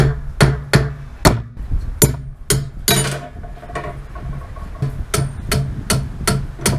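Sharp metallic hammer blows on a 1956 cab-over truck part, about a dozen strikes at an irregular pace, loud and close, with ringing tails between hits.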